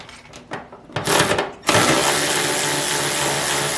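Tool undoing bolts on a Mercedes W108 fender, a few faint clicks leading into a loud, continuous close mechanical whir that runs to the end.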